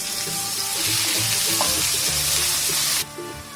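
Chopped onion and garlic fry in five tablespoons of hot oil, a loud, dense, steady sizzle with faint clinks of stirring beneath it, dropping off abruptly near the end.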